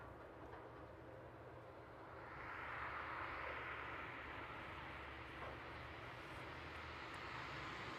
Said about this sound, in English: the final aircraft to depart on tonight's stream will be the cargo jet 767 on its return back to Cincinnati